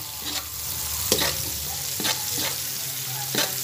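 Garlic and corn kernels fry in margarine in a pan, a steady close sizzle broken by periodic scraping strokes of a stirring spatula.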